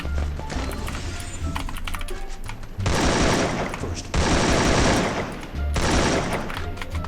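Gunfire in the Free Fire mobile battle game: rapid automatic bursts of loud, dense shots in three or four long volleys, close and harsh, with brief pauses between them and no clear talk.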